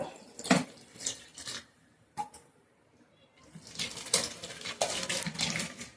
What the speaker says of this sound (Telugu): కొంచెం వాటర్ అయితే పోస్తున్నాను ఇందులో